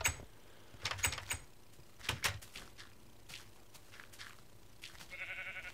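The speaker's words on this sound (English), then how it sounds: "This sheep apparently wants to go in the house." Minecraft sheep bleating, a few faint short bleats near the start and middle, set in quiet surroundings with small clicks.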